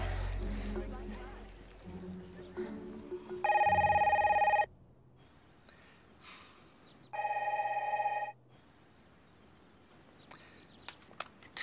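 A telephone bell rings in two separate loud bursts, each about a second long, with quieter room noise and movement in between.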